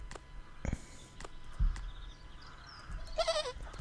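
Cartoonish sheep bleats from the video game Home Sheep Home, a few short sharp bleats followed by a longer wavering bleat, heard alone over quiet game background.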